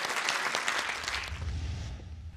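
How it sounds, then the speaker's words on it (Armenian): An audience applauds in honour of talented performers at an Armenian tribute event: a dense, steady patter of many hands clapping, fading toward a low rumble near the end. "ծափահարենք այդ տաղանդներին"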